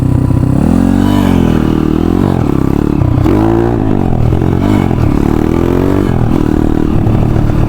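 Enduro dirt bike engine idling and riding slowly near a lake with people around, a loud close steady four-stroke drone with wavering pitch as the throttle rises and falls, alone without talk.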